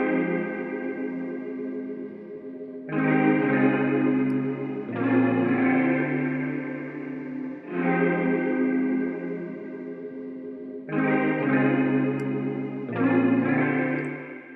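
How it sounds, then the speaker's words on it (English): Baby Audio Crystalline reverb plugin running its Moody Strings factory preset: lush, sustained string-like chords bloom and swell in long blocks, washed in a shimmering chorused tail, with no talking. "We have Moody Strings, so let's hear Moody Strings."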